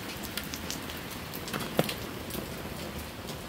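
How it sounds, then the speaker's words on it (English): Rain falling steadily outdoors, a soft continuous hiss of drops with a few sharper patters standing out near and clear, no talking. "Been waiting on this rain."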